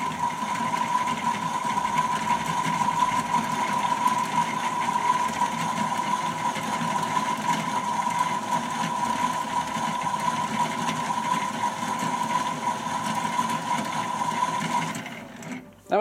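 A Casdon Hotpoint replica Washmatic toy washing machine on its spin cycle makes a steady, close electric motor whir with a constant high hum that runs for several seconds, then stops abruptly near the end.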